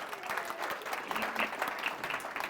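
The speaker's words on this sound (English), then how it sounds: "Let's give a round of applause." A crowd gives a round of applause during a game-show style event, with dense, even clapping at a moderate level and no talk over it.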